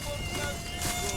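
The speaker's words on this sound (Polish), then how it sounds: "odpędził brzęczącego nad uchem komara" Mosquito buzzing near the ear, a thin, continuous whine in a steady outdoor setting, close and fairly loud with no speech.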